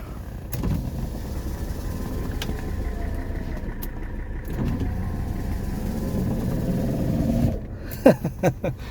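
Driver's side window of a 1984 Mercedes 300TD sliding in its freshly lubricated track: a low motor-like whir runs for several seconds, pauses briefly, runs again, then ends in a few sharp clunks, close and moderately quiet.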